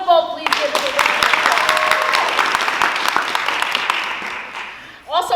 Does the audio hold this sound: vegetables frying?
no